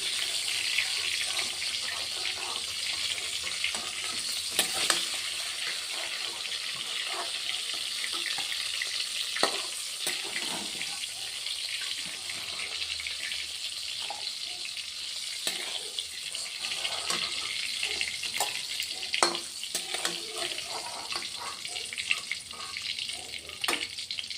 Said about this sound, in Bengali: আবার দ্বিতীয়বারের মাছ দিয়ে দিচ্ছি ওই তেলের মধ্যে